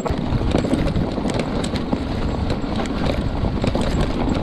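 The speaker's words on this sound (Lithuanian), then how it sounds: "Paputė vėjas, tai dabar jaučiu, kad žiema" Strong winter wind buffeting the microphone while riding an e-bike, a continuous heavy low rumble with gusty swells throughout and no speech.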